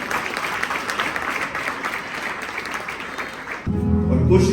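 Applause from a church congregation for the choir at an Easter service, a thick wash of clapping that holds steady, then gives way near the end to a louder, lower-pitched sound.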